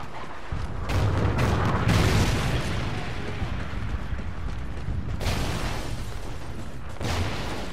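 Trinity rocket strike explosions thunder across the Warhawk map in a Call of Duty: Ghosts team deathmatch, a loud, sustained stretch of overlapping booms and rumbling blasts with brief gaps between bursts.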